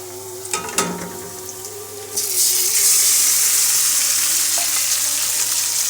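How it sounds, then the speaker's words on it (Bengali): Marinated mutton hits hot oil with already-fried onions for Bengali kosha mangsho, a few clanks of utensils giving way to a loud, steady sizzle that fills the rest of the clip. "এখন আমি মাংস অর্থাৎ ম্যারিনেট করে রাখা মাংসগুলো দিয়ে দেব।"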